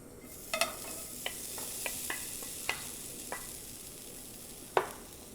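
Grated coconut cooks in a pan with a soft steady sizzle, broken by a few sharp scraping taps of a spoon or spatula against the pan. The sound is quiet and there is no speech.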